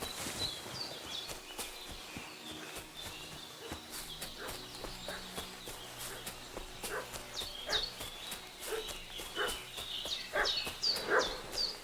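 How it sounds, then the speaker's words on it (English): A dog barks in the medieval role-playing game Kingdom Come: Deliverance 2, giving a long run of sharp, repeated barks and yips at moderate distance over quiet ambient background. "What's that dog making such a fuss about?"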